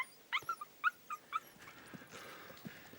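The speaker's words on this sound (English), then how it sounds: "King, that damn dog!" A dog whimpers in a quick series of high, thin yelps and whines, fairly close and distinct, followed by quieter shuffling and faint background noise.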